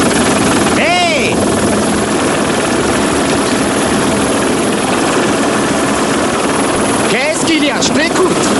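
Loud, close helicopter roar with a constant rotor and engine drone throughout, plus a couple of brief whistling sweeps.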